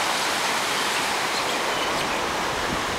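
Surf at Sugar Beach in Kihei, Maui, makes a loud, steady broadband wash of breaking waves with no pauses.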